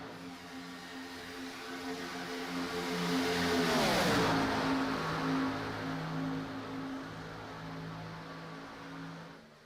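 A race car in a PTR Series race sweeps past close by, its engine note rising and then dropping sharply in pitch as it goes by, then fading into a steady distant drone of the field circulating the track.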